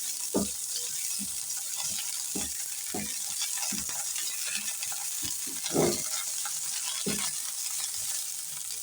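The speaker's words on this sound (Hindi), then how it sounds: "इसमें 6 से 7 कलियाँ मैंने लहसुन की ली हैं, वो इसमें ऐड कर देते हैं और इसको हल्का सा हम सोटे होने देते हैं।" Six or seven garlic cloves sauté in oil in a pan, giving a steady soft sizzle with repeated sharp stirring clacks and scrapes of a utensil against the pan, close up and with no talking.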